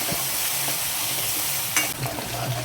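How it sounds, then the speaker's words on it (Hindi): Spices sizzle and fry in hot oil for a mustard fish curry, with a spoon scraping and stirring the pan at close range in a steady crackle, no talking. "जब तक ये ऑयल छोड़ेगा इसको मैं ऐसे भूनूंगी।"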